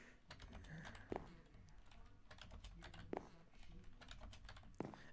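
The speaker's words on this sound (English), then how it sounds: "if you can hear the clicks of the keyboard" Computer keyboard keys clatter in quick, irregular bursts during a Minecraft-style gaming session, close and fairly quiet, with a few sharper heavier key strikes standing out among the steady typing.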